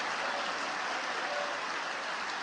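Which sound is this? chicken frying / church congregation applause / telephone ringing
church congregation applause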